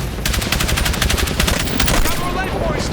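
Rapid automatic gunfire crackles in sustained bursts during an intense Battlefield 6 combat mission, loud and close, with dense overlapping shots and no clear speech.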